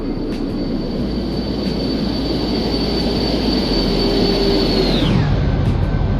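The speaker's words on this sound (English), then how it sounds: "So let's do us a little flyby here." Embraer E170 in X-Plane 11 makes a flyby: a loud, steady jet engine roar with a high whine that holds, then drops sharply in pitch near the end as the aircraft passes.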